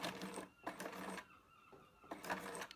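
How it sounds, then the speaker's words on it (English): A sewing machine runs in short bursts, stitching a row on a chore jacket, with about three close whirring runs separated by brief pauses, heard alone and fairly quiet. "I'm just going to do a little row of stitches, about 3 stitches to start me off"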